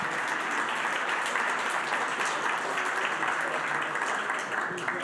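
An awards ceremony audience at the Swiss Who's Who Talent Awards gives sustained, thick applause, a continuous wash of many hands clapping at a steady, fairly loud level throughout.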